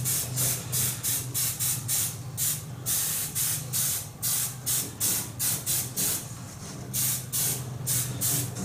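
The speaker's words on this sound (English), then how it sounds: "time to get the last coat of this on now, so we'll put the last coat of the blood red down." Spray gun laying down the final blood red coat on a polycarbonate remote control car body: a steady hissing spray broken into rapid, regular short bursts, close and loud, with a low compressor hum beneath.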